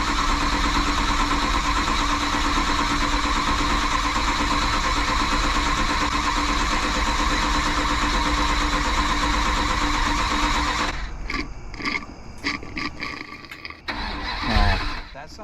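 A classic Mopar car engine with a dry carburetor and a low battery cranks steadily and loudly for about eleven seconds, then stutters in uneven bursts while trying to catch.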